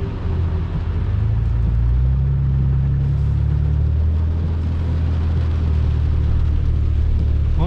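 Heavy chipped Ram 2500 pickup truck accelerating on a highway, a loud steady low engine drone and road rumble that swells and holds throughout, heard from inside the cab with rain conditions.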